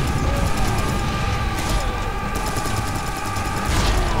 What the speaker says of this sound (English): I'm shooting rockets and it's doing something